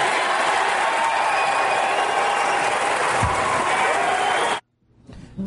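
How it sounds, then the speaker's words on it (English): A crowd cheers and applauds at an Occupy gathering, a loud, dense roar of clapping and shouting that holds steady and then cuts off abruptly near the end, leaving near silence. "We'll deal with the cheering crowd in a moment"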